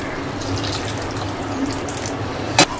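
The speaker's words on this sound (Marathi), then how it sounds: "आता आपण हे जे इथे पाणी उकळून घेतलंय ना ते पाणी आपण सोडणार आहे" Boiled water is poured into a pot of shevla bhaji as a steady, close, running water sound, with a brief sharp clink near the end and no voices.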